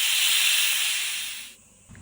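Steam hisses loudly and steadily from a pressure cooker's whistle on high flame while red cowpeas cook with turmeric, salt and water, then cuts off abruptly, leaving near silence.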